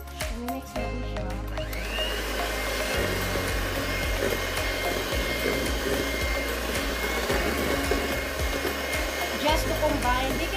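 An electric mixer beats Finnish berry pie batter after baking powder has been added, giving a loud, steady motor whine with a low hum that runs unbroken for the whole stretch.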